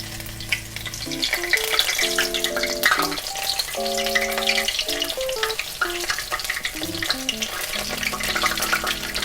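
Steady, loud sizzling of batter-coated enoki mushrooms deep frying in hot oil over medium heat, continuous bubbling crackle over light background music.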